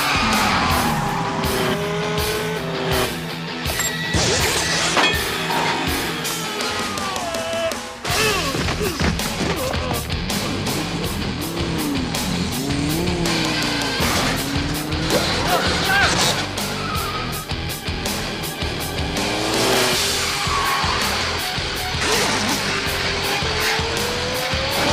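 Cars racing in a chase in an American crime drama, engines roaring and tyres squealing repeatedly, loud and close, with a brief impact and voices speaking at moments.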